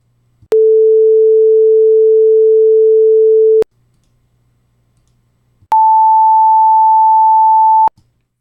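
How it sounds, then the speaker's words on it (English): Two pure sine tones play in turn, a steady 440 Hz tone for about three seconds, a pause, then a higher 880 Hz tone for about two seconds, both loud and clean with nothing else heard. "The signal on the top here is a pure tone of 440 Hz. The one on the bottom is 880 Hz."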